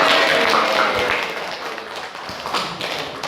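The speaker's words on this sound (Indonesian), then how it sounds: "Beri tepuk tangan." A classroom full of people claps together, a dense burst of applause that continues steadily, fading slightly toward the end.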